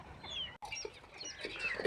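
Farm chickens waiting for feed give soft, close clucks and short throaty calls, quiet and intermittent over a low background.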